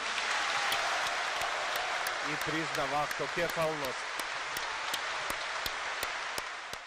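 Sustained applause from a church congregation and clergy at a patriarch's address, a dense steady patter of clapping throughout, with a voice speaking briefly over it in the middle.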